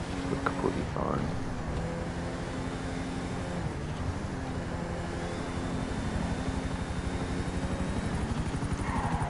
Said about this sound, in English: There's a police helicopter